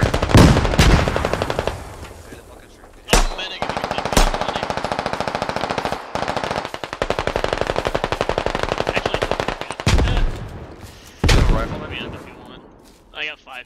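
Loud close machine-gun bursts from a squad-based video game, several long rapid strings of shots broken by short gaps, with faint talk now and then.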